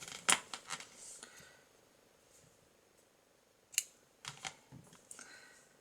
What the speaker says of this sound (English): then we can fasten off and cut the yarn